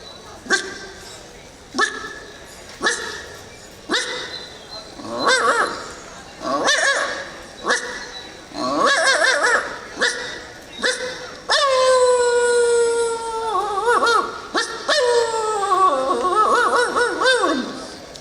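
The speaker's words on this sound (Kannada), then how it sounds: "ಇನ್ನು ಸ್ವಲ್ಪ ದೊಡ್ಡ ಮರಿ ಆದಮೇಲೆ ಬೊಗಳಕ್ಕೆ ಶುರು ಮಾಡುತ್ತೆ ಹೇಗೆ ಶುರು ಮಾಡುತ್ತೆ" A young puppy barks in a series of short yips, then breaks into long rising and falling howls, loud and close, with brief pauses between outbursts.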